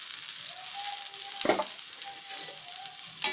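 Chopped drumstick leaves sizzle in a hot pan for a moong dal fry, a steady close frying hiss with a sharp burst as the leaves hit the oil and a brief later scrape.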